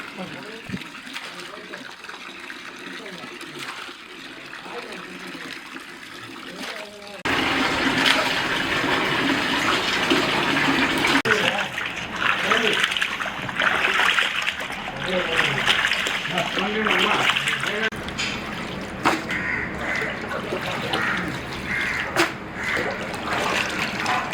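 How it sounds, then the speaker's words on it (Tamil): Water gushes and splashes steadily over country chicken as it is washed with turmeric in a kitchen, beginning softly and then running loud and continuous for most of the stretch while a voice talks over it. "நல்லா தண்ணி ஊற்றி வாஷ் பண்ணிட்டு இப்போ மஞ்சள் தூள் போட்டு இப்போ வாஷ் பண்ணுறாங்க"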